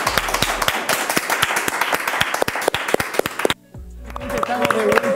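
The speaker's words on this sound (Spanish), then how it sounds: "Aplauso." Applause in a Spanish-language talk-show studio: a small group's sharp, scattered claps over a music bed and voices, with a brief drop-out partway through before the sound picks back up.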